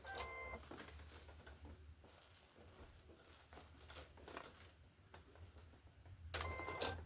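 A sewing machine back stitches a few stitches at a time while making a walker caddy, its motor whirring and needle clattering in short mechanical runs.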